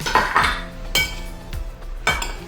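Breadcrumbs and shredded Parmigiano mixed with porcini powder in a metal bowl: sharp utensil clinks and scrapes against the bowl, three or four distinct knocks spaced about half a second to a second apart, close and clear with no talking.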